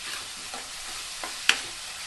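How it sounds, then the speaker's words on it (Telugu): Onions fry in oil with a steady, hissing sizzle, stirred now and then with soft scrapes and one sharp clink of the utensil against the pan, close up and with no voices. "ఆనియన్ తొందరగా వేగడానికి కొంచెం సాల్ట్ వేసుకొని ఫ్రై చేయాలి."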